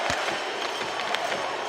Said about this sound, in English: Now there's the Landy chant erupting from the crowd here at Blue Arena.